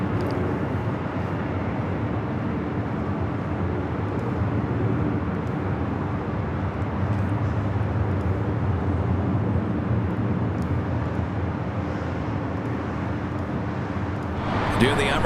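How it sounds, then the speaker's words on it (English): Delta Airbus A319 arriving at LAX from San Antonio, a distant steady jet roar blended with broadband airport and traffic rumble, continuous and fairly faint throughout. "That A319 with Delta coming in from San Antonio"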